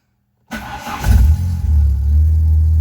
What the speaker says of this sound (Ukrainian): Тачка запускається, але є такий ефект. Запускається, ну недовго.